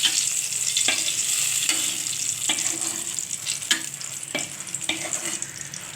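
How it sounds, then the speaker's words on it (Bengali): Eggplant frying in hot oil gives a steady bright sizzle, broken by a few sharp clicks and scrapes of a utensil at regular intervals, close and fairly loud, with no talking. "বেগুনটা কিন্তু খুব ভালো করেই ভাজতে হবে"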